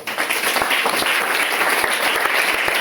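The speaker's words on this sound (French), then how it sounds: "Acclame le Seigneur" A church congregation bursts into sustained, dense applause, many hands clapping together at a steady loud level for the whole stretch, with no talk over it.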